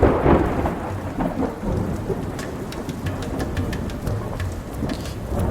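Steady rain and rolling thunder from a storm in the hills in the video game Dustland Delivery, a dense wash of rain with crackling rumbles throughout, with no talking.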